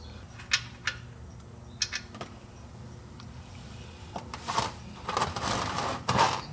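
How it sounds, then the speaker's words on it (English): Oil drain bolt being worked loose under a Jeep Wrangler 3.6L V6, a series of close metallic ticks and clicks followed by denser scraping and rattling toward the end. "Remove the drain bolt."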